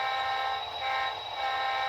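Train in the Garrettville rail yard where cars are classified, giving a sustained, loud chord-like horn tone that swells and dips slightly, heard alone without speech.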